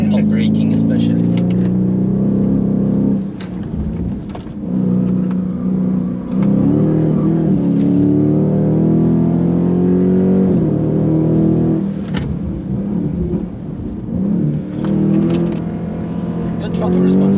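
A Dodge Charger Scat Pack on all-season tires roars loudly through sustained acceleration on the Nürburgring, its engine note rising and falling between gear changes with steady cabin rumble throughout.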